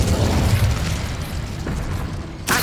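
Incendio fire spell blasts in the Hogwarts Legacy video game: a heavy, whooshing boom that rumbles and fades, then a sharp, bright burst right at the end, with no voices.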